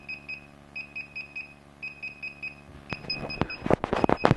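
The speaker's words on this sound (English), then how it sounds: "So if we just let that continue to beep until it's finished." A DJI Inspire drone controller beeps during a firmware update, repeating short high beeps in pairs and triplets at a steady rhythm, followed by a burst of clicks and handling noise near the end.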